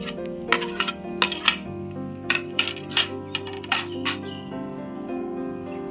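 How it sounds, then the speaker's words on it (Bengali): Fried potatoes dropped into a pan with metal utensil clinks and scrapes, a run of sharp close clatters over a low background hum, no voices. "এবার ভেজে রেখেছিলাম যে আলুগুলো দিয়ে দেবো"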